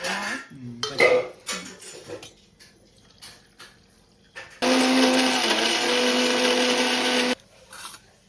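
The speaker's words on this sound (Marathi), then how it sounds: "हे आपण पाय मिक्सरात लावून घ्यायचे आणि त्यांचा रस घ्यायचो" Items clatter briefly, then a mixer grinder roars loudly and steadily for about three seconds grinding raw river crab legs for juice, before cutting off, followed by a few soft knocks.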